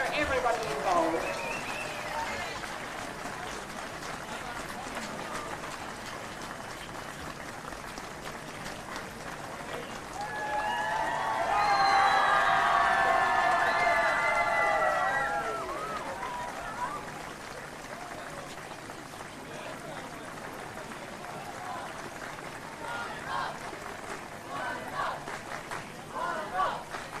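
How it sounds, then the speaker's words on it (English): A crowd at a country long course swimming championship finals gives officials a swell of applause in the middle, rising over an echoing pool hall murmur with a voice over the loudspeaker, then fading back to ambience. "Let's make it a nice loud applause for everybody involved."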